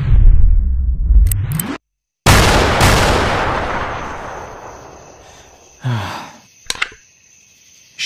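Loud gunfire from the video game The Lawless Android: a heavy boom with a long decaying roar, a second blast fading over several seconds, then a few sharper shots and clicks before it goes quiet.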